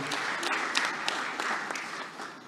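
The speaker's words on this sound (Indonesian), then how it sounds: "kita berikan tepuk tangan yang meriah bagi Ibu Ketua Umum" An audience at an Indonesian political party event gives the party chairwoman loud, sustained applause, a dense crowd of clapping hands that stays steady before easing slightly at the end.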